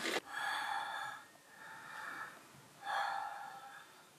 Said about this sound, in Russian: Дыши сильно. Дыши ротиком, хорошо.